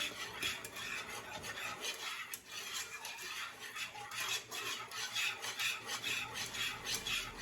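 Vanilla being stirred into a keto chocolate gravy in a pan, giving a steady scraping and rubbing of a utensil against the pot that carries on throughout at moderate loudness, with no talking.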